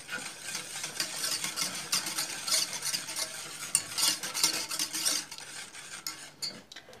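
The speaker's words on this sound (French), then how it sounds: "on mélange." Egg yolks being stirred into chocolate cake batter for a light chocolate cake, heard as a continuous close, scraping stir of utensil against bowl with uneven rhythmic strokes and no voices.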